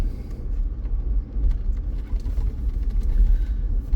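A car drives across a beach at low tide, its engine a steady close rumble with slight surges, heard alone without talk.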